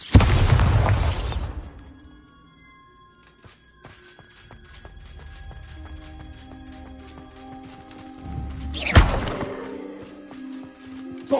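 Exploding spell in Hogwarts Legacy: a loud booming blast at the start, a quieter stretch of ticking, clinking game sounds, then a second sharp explosion near the end.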